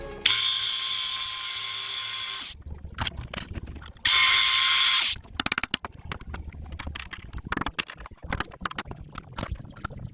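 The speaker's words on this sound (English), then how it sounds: "Out comes the angle grinder" An angle grinder cutting through rusted, seized bolts on a car, a loud high-pitched whining grind in two sustained bursts separated by clattering, scraping and knocking of metal parts.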